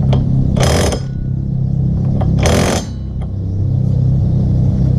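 Ratchet wrench tightening bolts to torque at an off-road Jeep park, with two short bursts of rapid clicking ratcheting heard up close over a steady low engine-like rumble.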